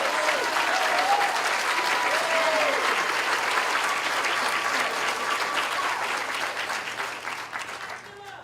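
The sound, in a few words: audience applause for students on stage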